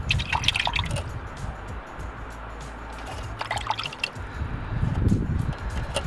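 Water drips and trickles out of a car engine during a repair, a close, irregular patter of drops and small splashes over a low background hum, with no voices.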